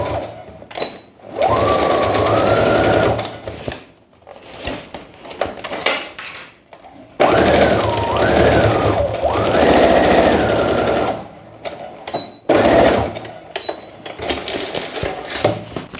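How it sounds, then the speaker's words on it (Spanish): A sewing machine stitches a seam on a cork tote bag in loud, close bursts of rapid mechanical whirring, with pauses and short starts between runs. "Y vamos del otro lado con la última costura de esta parte"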